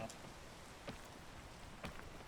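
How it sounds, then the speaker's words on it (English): Rain falls steadily in the climbing video game PEAK, a soft even hiss with a few brighter drops standing out, fairly quiet with no voices. "Especially with the rain."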